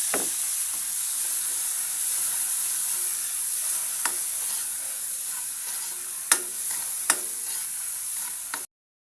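Chopped tomatoes and onion fry in oil in a pan, a loud, close, steady sizzle with a few sharp pops and scrapes as they are stirred, ending abruptly.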